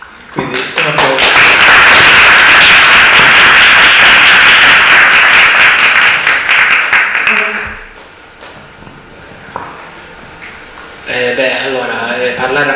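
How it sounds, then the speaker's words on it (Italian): Loud, sustained applause from an audience at a reading of Latin elegiac poets fills most of the clip, fading out and giving way to a voice speaking. "Quindi un applauso."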